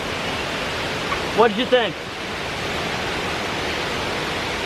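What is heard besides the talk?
waterfall in Ubud, Bali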